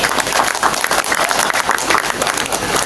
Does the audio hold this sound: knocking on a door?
no